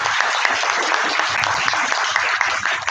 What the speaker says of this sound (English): Can we please have a huge round of applause for all of the club members?